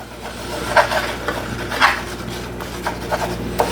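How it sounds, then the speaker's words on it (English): A spoon scrapes and rubs across a pan as flour browns for gravy, a series of soft rasping strokes in an uneven rhythm, close and moderately loud over a low background hum. "I'm using the flat of the spoon, so I'm not hurting my pan at all."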